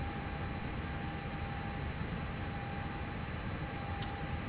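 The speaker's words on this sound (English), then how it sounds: "the colder weather, your cockpit on the ground will sound like this." Cold-weather ground ambience inside an Airbus A321ceo cockpit: a constant, fairly quiet broadband hum and airflow hiss with faint steady whine tones underneath, unchanging throughout with one tiny high click near the end.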